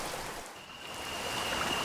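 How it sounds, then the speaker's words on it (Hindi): A jungle river flows past close by, a soft, steady wash of moving water that is faint and continuous with no voices over it. "अब मैं एक बहुत ही अच्छी नदी के किनारे पर हूँ"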